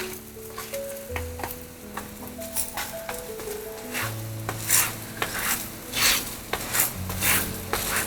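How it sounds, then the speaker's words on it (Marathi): Paneer paratha sizzling and frying on a hot pan as it is flipped and roasted, a steady crackling hiss with scraping and rubbing touches, while background music plays underneath. "असा दोन तीनदा उलटवून तो भाजायचा"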